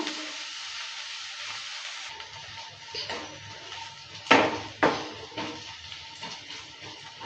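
Garlic and onion fry in a pan for a mashed pointed gourd dish, giving a steady soft sizzle with a few sharp scraping stir clicks near the middle, no talk.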